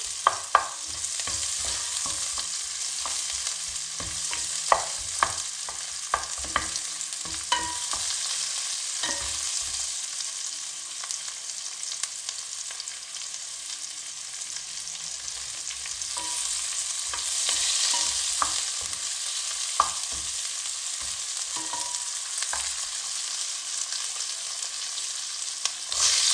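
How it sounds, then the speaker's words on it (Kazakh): Steady sizzling of onions frying in a pan, with frequent scraping and clinking as they are stirred, continuous and fairly close, no talking. "Лукты қуырып аламыз"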